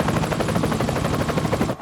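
A cartoon helicopter at a helipad thunders steadily and close, its rotor chop pulsing in a fast, even rhythm with no break until it cuts off at the very end.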